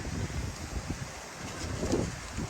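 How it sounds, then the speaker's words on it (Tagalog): Strong wind buffets the microphone outdoors in a continuous, loud, rumbling roar with gusty surges and no pause. "ang lakas ng hangin, oh."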